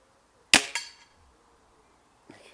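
A new spring-piston air rifle fires with a sharp, loud crack and a quick mechanical thump right after, then a fainter clack follows near the end in a quiet setting.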